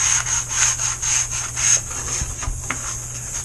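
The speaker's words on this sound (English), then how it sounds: "take some sandpaper that's not 5 grit. This stuff, like I said, kids, stupid soft. We're going to sand this down a little bit." Sandpaper is rubbed by hand over soft wood for a boat skiff kit build, a close, rhythmic back-and-forth scratching of repeated strokes with no voices.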